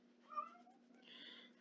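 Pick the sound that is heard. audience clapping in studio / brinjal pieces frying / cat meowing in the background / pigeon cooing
cat meowing in the background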